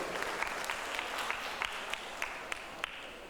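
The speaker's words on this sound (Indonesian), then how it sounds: "silakan boleh tepuk tangan dulu" Audience applause at the opening of a charity health-check event, a steady patter of many hands with a few sharper nearby claps standing out.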